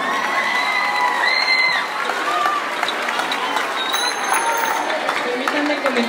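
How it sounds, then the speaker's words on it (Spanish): A crowd claps and cheers for a kindergarten children's orchestra, with scattered shouts and whoops, a steady wash of applause lasting several seconds with some voices mixed in. "¡Un fuerte aplauso!"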